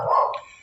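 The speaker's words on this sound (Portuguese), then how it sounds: "o cachorrinho está latindo aqui" A small dog gives a single short bark, fairly close and moderately loud, fading quickly in an indoor room.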